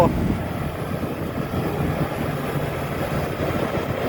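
The 175-horsepower Weichai common-rail turbo diesel engine of a LiuGong B160CL bulldozer runs steadily at idle, a constant low rumble with a faint voice underneath.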